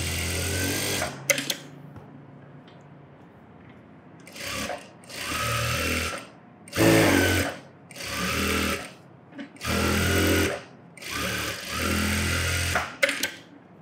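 A tailoring sewing machine stitches fabric for a garment sleeve in several bursts of rapid, whirring motor chatter, each lasting about a second or two and separated by short pauses and soft handling clicks, close and loud.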